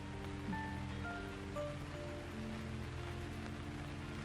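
Rain falls outdoors as a constant, moderate hiss, heard from inside while eggplant seedlings are being transplanted. A faint low hum and a few soft tonal chirps sit beneath it.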